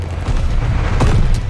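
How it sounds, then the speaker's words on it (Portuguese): An enemy glide bomb explodes in the Call of Duty Vanguard video game, a short, loud, heavy boom with a low rumble. "Atenção, bomba planadora inimiga."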